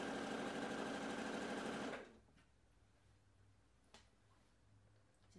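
A sewing machine stitches around an old T-shirt in a loud, steady whir that stops abruptly after about two seconds, followed by quiet room tone with a faint click.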